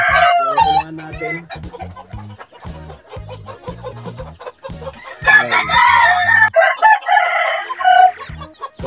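Young two-week-old chicks in a backyard coop, heard alongside a rooster crowing loudly and hens clucking nearby, with someone talking over much of it.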